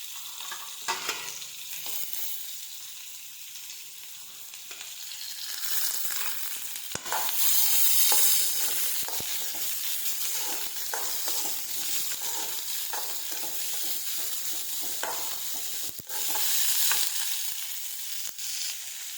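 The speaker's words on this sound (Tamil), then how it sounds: "வெங்காயமும் நல்லா பொன்னிறமாக வதங்கணும்." Onions sizzle and crackle steadily in a hot pan, with occasional stirring scrapes and clinks, close and continuous with no talking.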